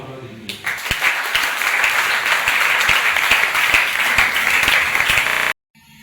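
Congregation applauding during a Tuesday church service, a dense, steady wash of many hands clapping close by for several seconds, with a few sharper claps standing out, then cutting off abruptly into silence.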